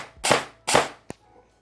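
Airsoft gun firing with a tracer unit attached, two sharp, loud cracking shots about half a second apart, followed by a fainter short click.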